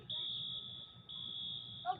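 A school fire alarm sounds as two long, steady high-pitched tones with a brief break between them. It is fairly faint and distant, and a short voice sound comes at the end.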